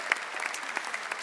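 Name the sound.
audience applause for the coaches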